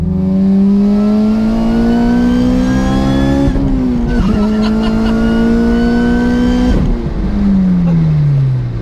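A supercharged 2011 Honda Civic Si engine revs hard while driving, its loud, steady drone climbing in pitch through each gear, dropping at two shifts, then rising again, close and continuous throughout.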